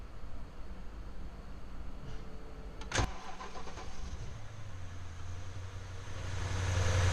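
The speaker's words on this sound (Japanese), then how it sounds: "この後いよいよエンジンを回していきたいと思います" A BMW engine with a newly cleared check engine light cranks and fires with a sharp burst, then settles into a low, steady idle that grows gradually louder toward the end.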